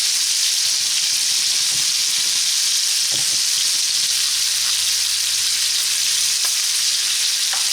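Venison pieces sizzle loudly and continuously in a hot pan while browning, with occasional soft stirring clicks and no talking.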